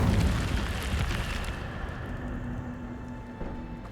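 Incendio fire spell cast in Hogwarts Legacy, a loud whooshing burst of flame that flares at once and then settles into a steady crackling roar, fading gradually with no talking.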